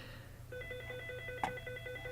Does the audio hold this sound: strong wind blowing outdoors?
no